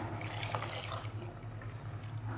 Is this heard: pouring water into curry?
yes